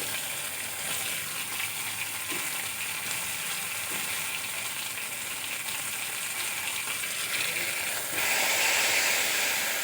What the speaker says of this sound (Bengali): খুব ভালো করে মশলা কষিয়ে নেব